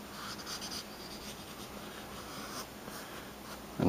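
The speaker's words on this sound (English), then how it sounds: "regular number two pencil to get the undersketch of them." A regular number two pencil scratches steadily across paper while laying down an undersketch, a soft continuous close-up scraping with small strokes, no one talking.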